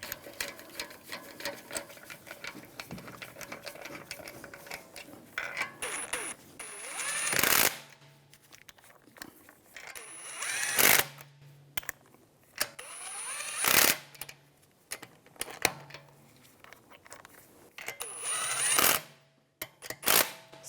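Lug bolts being run down onto a wheel hub of a 2009-2013 BMW 328i xDrive, heard as several separate bursts of fast ratcheting clatter spaced a few seconds apart, close and fairly loud, with quiet pauses between.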